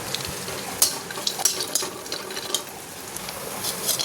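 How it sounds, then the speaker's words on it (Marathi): Dry fruits roasting in a spoonful of ghee in a pan, with a soft steady sizzle and scattered crisp ticks and scrapes as they are stirred, close and fairly quiet. "आता हे मस्तपैकी आपण तुपावर चांगलं भाजून घेऊया."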